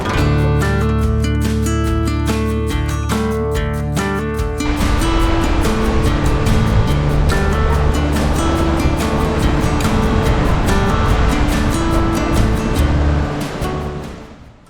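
Sea waves surge into Broken Beach, a circular cliff with a natural sea arch on Nusa Penida, Bali, as a loud, steady wash of surf rising midway under music and fading at the end.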